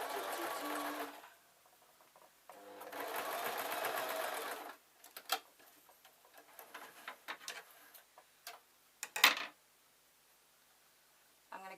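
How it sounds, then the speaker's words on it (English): A sewing machine stitches through felt and lining for jester slippers in two short, close bursts of rapid mechanical stitching, followed by scattered clicks and rustling handling sounds. "it gives a reassuring thud when you sew it"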